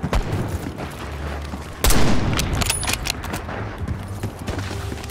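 Pistol fire in a Call of Duty match: a loud sharp shot stands out among dense gunfire and game noise, under a constant noisy mix.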